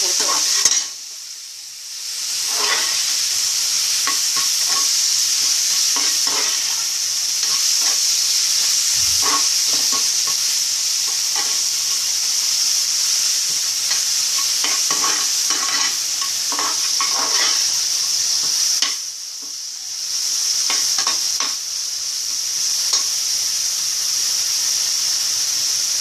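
Onions with salt fry in a pan for a long stretch, a steady close sizzling hiss broken by scraping and clinking as they are stirred, with no voices.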